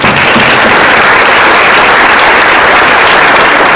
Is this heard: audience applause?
yes